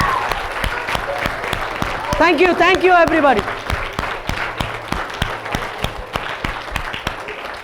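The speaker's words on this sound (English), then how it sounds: "A big round of applause to all the" An audience at a code-a-thon event claps for the participants, a dense round of applause with sharp individual claps while a speaker talks over it and a brief musical tone rises in the middle.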